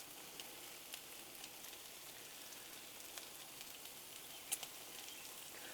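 Cheese frying on a Blackstone griddle, a faint, even sizzle with small scattered crackles and one sharper pop near the end, heard alone without talk.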